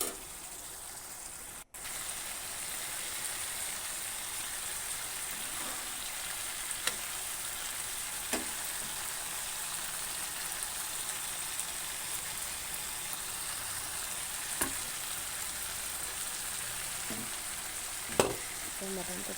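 Mutton sizzling in a pan with green chilies and spices, a steady close frying hiss with occasional faint clicks of stirring and a brief dropout near the start.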